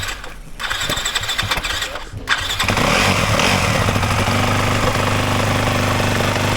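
A Yamaha WR enduro motorcycle, a WR250F or WR450F, on a wet off-road course in Wales starts up on its electric button and settles into a loud, steady, close engine drone that drowns out the light earlier noise.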